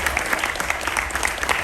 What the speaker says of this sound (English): Can we please give a big round of applause for our spouses